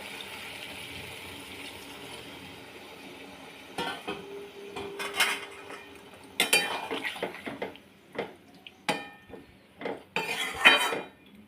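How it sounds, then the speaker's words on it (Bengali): Okra patturi, a Bengali dish, is stirred in a pan. A low background hiss gives way to loud, irregular metallic scrapes and clanks of a spoon against the cookware, and these grow busier and louder toward the end. "ভালো করে নাড়াচাড়া করে পরিমাণ মতো জল দিয়ে দেবো রান্নাটা হওয়ার জন্য।"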